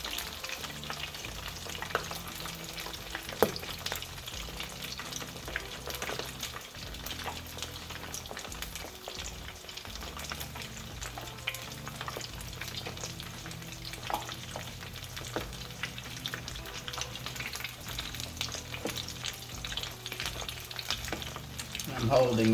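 Chicken and dressing balls fry in hot grease, a steady dense sizzle and crackle that stays close and continuous throughout.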